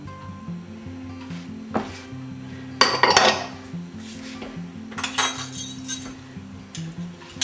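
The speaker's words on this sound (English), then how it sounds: "we stir in our sugar, which is a cup of sugar, milk, half a cup of milk, eggs, 2 eggs that I've put together" Sugar, milk and eggs being stirred in a bowl, with utensils clinking and scraping against the dish in irregular knocks and a louder clatter midway, close by over a faint low hum.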